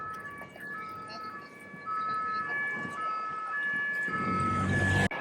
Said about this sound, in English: It's non-stop sirens. Just non-stop. Never ending.